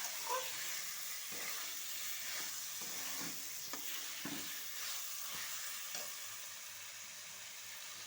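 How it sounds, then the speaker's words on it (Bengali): Chopped potatoes are sautéed and stirred in a pan for ghugni, giving a steady, moderately quiet sizzle with repeated scraping and stirring strokes throughout. "এবার এটা ভালো করে কষাতে থাকবো।"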